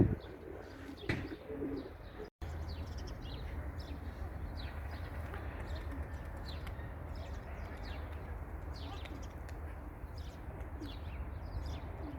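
Pigeons coo softly amid scattered chirps, with a steady low rumble of background noise underneath, moderately distant.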